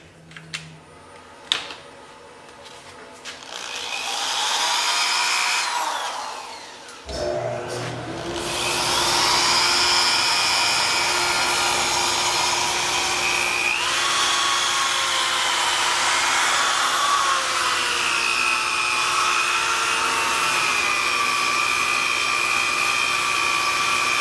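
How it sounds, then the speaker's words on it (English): A steady electric sanding whine with a droning motor hum as a wooden bowl is sanded, starting after a few quiet clicks and running continuously at close range. "I'm going to show you about 10 seconds of sanding here."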